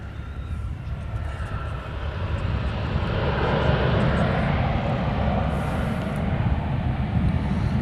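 A jet airplane roars at Honolulu airport, its engine noise swelling into a loud, broad, steady rush that holds for several seconds.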